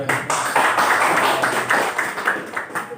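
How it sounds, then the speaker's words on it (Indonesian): An audience applauds, a short burst of many hands clapping in a fairly close room, dense and uneven, lasting about three seconds. "Tepuk tangan dong Pak Salim"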